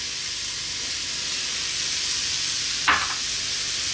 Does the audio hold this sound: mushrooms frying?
yes